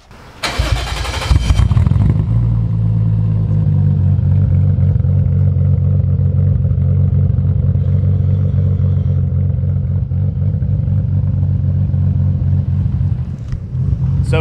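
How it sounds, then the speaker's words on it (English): Toyota Soarer making over 600 hp with aftermarket cams, running a loud, steady, lopey idle rumble while driving, a burst of startup revving at the beginning and no talking. "So as you can probably hear, it is lobing a little bit. It does have cams."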